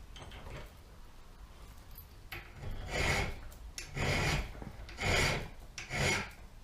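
Hand file rasping a notch into metal, slow, deliberate strokes that build into four loud, evenly spaced rasping pushes after some quieter scraping, close up with no talking.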